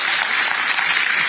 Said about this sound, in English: clap with full energy.